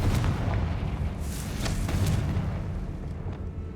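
A Confringo spell blast in the Hogwarts Legacy video game, heard as a dull rumbling boom with a few crackling bursts over a steady low roar, all at close range.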